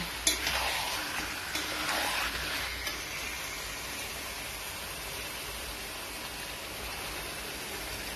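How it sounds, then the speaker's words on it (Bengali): Chicken sautéed and stirred in a pan gives a steady, soft sizzling hiss, with a few louder stirring scrapes in the first few seconds that then settle into an even sizzle. "দেওয়ার পর চিকেনটাকে ভালো করে কষিয়ে নিচ্ছি।"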